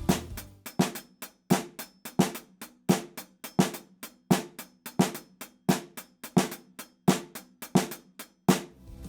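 A drum kit playing a fast five-against-two polyrhythm, with sharp, bright hits in a rapid repeating cycle, loud and close, with no other sounds.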